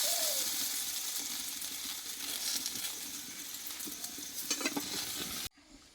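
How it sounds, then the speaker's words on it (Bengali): Okra sautéing in mustard oil in a wok crackles with a close, steady sizzle and occasional metallic stirring clinks before cutting off abruptly near the end. "এই ভেন্ডিগুলো আমি ভালোভাবে কষিয়ে নিয়েছি"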